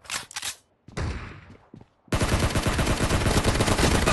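Gunshots in PUBG Mobile: a few brief separate shots, then a pause, then a loud sustained rapid burst of automatic fire close up.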